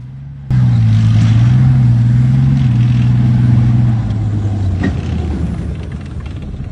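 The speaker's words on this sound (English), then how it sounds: "Ukrainian Leopard 2A4 with a large amount of Contact 1 ERA protection, maneuvering off-road." A Ukrainian Leopard 2A4 tank fitted with Contact 1 reactive armour maneuvers off-road with a loud, droning engine roar that holds steady and then eases slightly toward the end.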